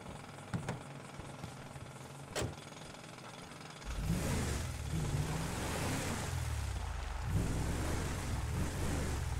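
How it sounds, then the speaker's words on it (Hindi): A car in the video game GTA 5 drives into a garage, with a loud, steady, rumbling engine drone. The engine starts up partway through and stays close and continuous to the end. "अपनी गाड़ी अंदर लगाता हूँ।"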